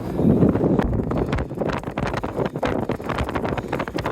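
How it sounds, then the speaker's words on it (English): Strong wind of about 35 buffets the microphone in uneven gusts, a loud rushing roar that rises and falls throughout, with no voices. "I'd say it's actually windier now than it was"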